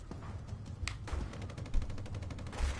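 Gunfire in the PS4 platformer video game MilitAnt, rapid bursts of small shots in quick succession at moderate level over a busy game background, with a sharper crack near the middle.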